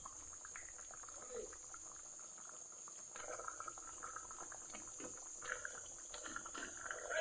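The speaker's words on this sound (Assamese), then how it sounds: "আঞ্জাখন উতলি আছে মই এতিয়া মাছ দি দিম" Curry boiling in a pot before fish is added, a steady close bubbling and simmering hiss with a faint voice under it.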